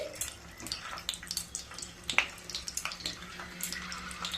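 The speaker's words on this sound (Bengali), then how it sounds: "ডিমগুলোকে হালকা ফ্রাই করে নেব" Eggs with cuts in them fry lightly in hot oil in a pan, giving a close, steady crackle with scattered sharp pops and spits, no talking.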